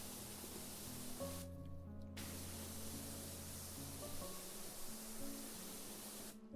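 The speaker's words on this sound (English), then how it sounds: "it's just the way that the water hitting this particular structure sounds" A pressure-washer jet strikes a structure in PowerWash Simulator, making a dense continuous hiss that cuts out briefly twice, with soft game music tones underneath.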